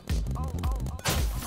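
A sniper rifle in Roblox Big Paintball fires one sharp, loud shot at the start, followed by a second burst near the end amid game sound effects.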